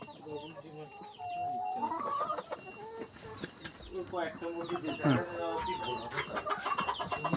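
Many laying hens on a layer poultry farm cluck and cackle close by, overlapping in a busy, continuous chorus with a voice talking faintly among them.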